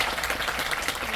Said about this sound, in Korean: 네, 오늘 통역에 수고해주신 김재수 역사님께도 큰 박수 부탁드리고요.